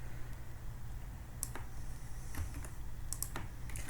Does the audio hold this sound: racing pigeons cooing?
no